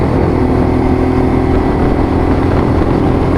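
A Lexmoto LXR-SE motorcycle engine running close by at about 5,000 RPM, a steady throaty drone at constant revs with no speech.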